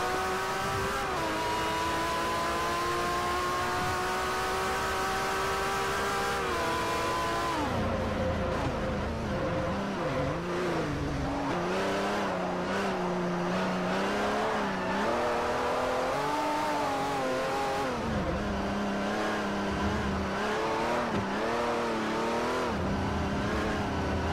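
A Lamborghini Murcielago engine in the Forza Motorsport 4 racing game screams loudly at high revs and climbs through gear changes, with brief tire squeal and a constant near roar throughout.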